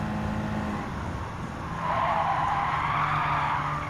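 Tires squeal and skid as a rear-engined, rear-wheel-drive car corners in the Gran Turismo 7 racing game, engine droning underneath while the screech rises midway and holds, close and steady.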